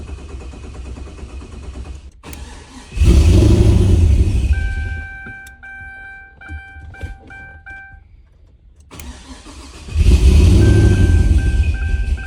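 A tuned TBSS with engine trouble cranks and fires into a loud, rumbling idle, then dies away to quiet electronic beeping before cranking and roaring to life again, close and without talk.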